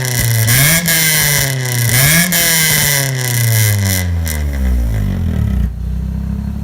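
A 2000 Honda Civic EX VTEC engine with an exhaust silencer fitted revs hard and loud, rising and falling in repeated sweeps with a shrill, high-pitched exhaust note before dropping away near the end.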